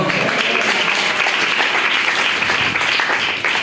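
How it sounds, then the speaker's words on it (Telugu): An audience applauds continuously at a church gathering, dense steady clapping throughout. "కొట్టండి చప్పట్లు"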